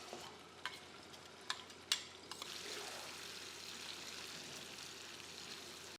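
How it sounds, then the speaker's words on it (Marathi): A few light clinks of a utensil on a pan, then ginger, garlic and green chili paste hits hot oil and bursts into a steady, close sizzle that keeps hissing evenly with no talking. "आता पॅनमध्ये तेल, त्यामध्ये ही पेस्ट"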